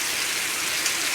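Heavy rain pours steadily in a dense, even hiss, loud and close with no pauses and no voices.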